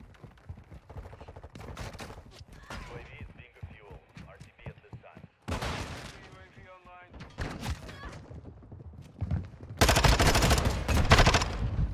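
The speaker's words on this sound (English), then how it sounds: "I just got pounded by a fucking shotgun again." Shotgun blasts boom in a first-person shooter match, several sharp, loud reports scattered among other gunfire and clatter, growing denser and louder toward the end, with a player talking over it.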